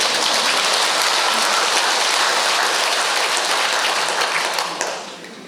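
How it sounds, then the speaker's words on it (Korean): Loud, dense clapping from an audience at a Buddhist monk's lecture at Chunghyosa temple, a steady wash of many hands that fades toward the end. "박수 치는 어른들만 154 건강해요"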